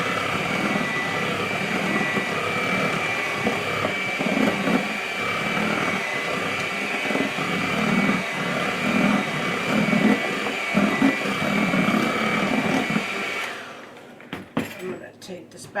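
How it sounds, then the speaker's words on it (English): Banana bread batter is mixed in a bowl, giving a steady whirring churn that runs nearly unbroken for about thirteen seconds before cutting off into a few faint knocks. "And we're just mixing everything. Get everything nicely incorporated."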